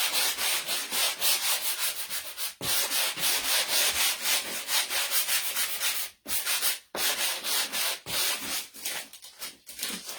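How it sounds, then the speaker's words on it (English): Light hand sanding over a wooden snowflake sign: steady rapid back-and-forth scratchy rubbing strokes, close and continuous, with a few brief pauses between passes and no talking. "I'm lightly trying to sand over this as well"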